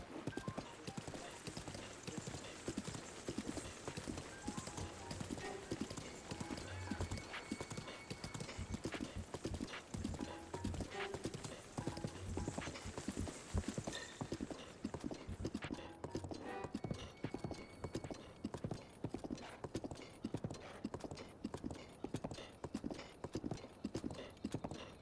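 A horse gallops in Breath of the Wild, rapid rhythmic hoofbeats clip-clopping continuously for the whole stretch, fairly close, with brief snorting and occasional faint game sounds beneath.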